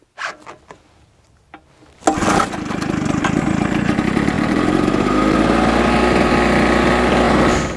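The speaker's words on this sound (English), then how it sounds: "so the generator is on" A small portable generator starts up after a few sharp pull-cord clicks, then settles into a loud, steady, buzzing engine drone that runs continuously close by for several seconds with no talking.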